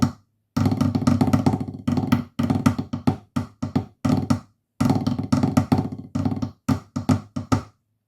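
Part two of the Illawalla marine snare solo rattles out close and alone, bursts of buzzing rolls and crisp accented strokes separated by brief gaps, in a driving march rhythm.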